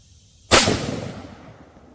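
A rifle fires a single M855 green tip round into a stack of baseball cards, one loud sharp crack followed by a long fading echo.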